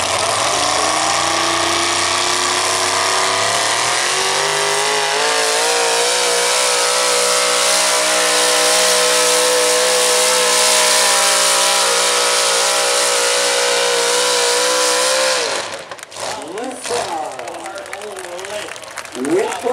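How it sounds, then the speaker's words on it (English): An old dent-side Ford truck engine revs hard and steadily for about fifteen seconds, its pitch climbing and then holding high and loud before cutting off, with crowd noise and voices continuing afterward. "It's a good running truck."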